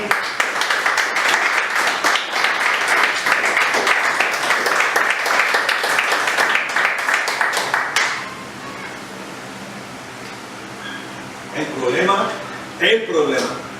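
A church congregation breaks into loud, steady applause that lasts about eight seconds and then fades, followed by a preacher's voice speaking.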